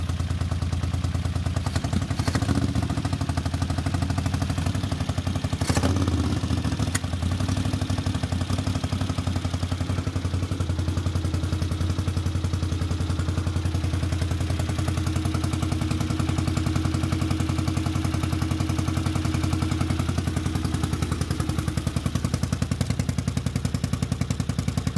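Honda CX 500 motorcycle engine running steadily on its centre stand, a continuous loud low rumble throughout with a brief sharp pop or backfire near the start.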